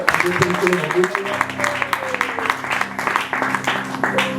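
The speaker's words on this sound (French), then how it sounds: "Acclamons encore le Seigneur." A church congregation applauding during a pastors' consecration service, a dense patter of clapping heard under a speaking voice and some musical tones.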